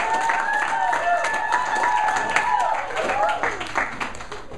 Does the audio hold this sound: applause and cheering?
yes